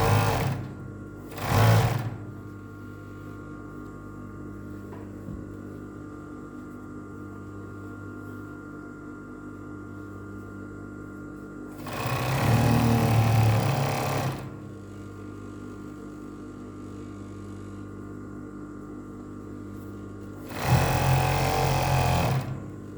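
Sewing machine stitching a shirt cuff, three separate bursts of rapid motor whirring, the first brief and the later two longer, with quiet hum between them.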